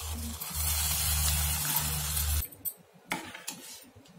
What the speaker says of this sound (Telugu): పోపు ఫ్రై అయిపోయిందండి, ఇంకా ఇప్పుడు పప్పు కలిపేసుకుందాము.